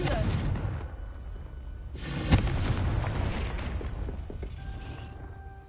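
A Confringo blasting spell goes off in Hogwarts Legacy as a sharp, loud crack amid steady rumbling combat noise, followed by a fading low rumble and faint tonal game sounds.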